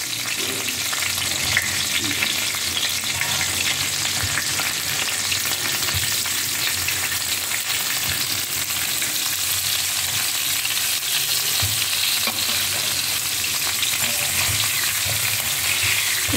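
Spiced stuffed eggplant in oil sizzles steadily at close range on medium heat, with scraping and stirring clicks scattered through a continuous crackle; no voices.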